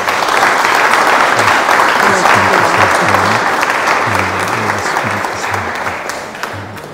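Steady, dense applause from a crowd at a Catholic pilgrimage gathering fills the whole stretch, loud and continuous, slowly tapering near the end.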